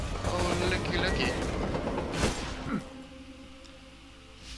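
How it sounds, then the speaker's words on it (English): A video-game train rumbles past on the tracks, a loud, broad roar that peaks and then fades into a softer lingering drone, with a player's voice over it. "I just got nailed by that fucking train."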